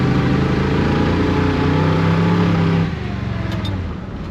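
A 1966 Chevy Biscayne V8 revs loudly at close range with a slightly uneven, stumbling note, then drops back to a lower, rougher idle.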